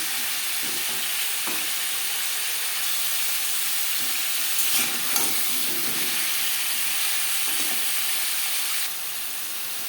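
Papaya and other vegetables fry in hot oil for shukto, a steady, even sizzle and hiss with faint stirring knocks, close and continuous with no voices.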